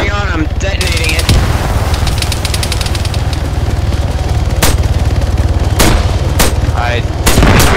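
Loud, dense battle noise in Arma 3 with heavy rumbling and a few sharp cracks and booms breaking through, one of them an explosive going off amid steady low-end roar.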